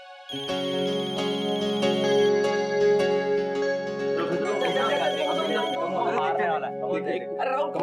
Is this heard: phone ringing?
yes